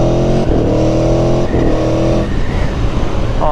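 Aprilia Tuono V4 motorcycle from 2018 on its stock exhaust, loud and close, revving hard through quick shifter upshifts with brief breaks between gears, then a rougher, burbling engine note as it settles.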